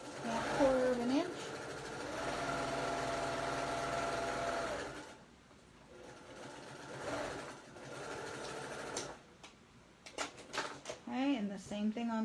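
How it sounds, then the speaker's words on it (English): A sewing machine runs a scant quarter-inch seam along a bag lining, with a steady motor whir lasting several seconds before pausing. Someone talks over and between stretches of stitching. "Sew a scant 1/4 inch."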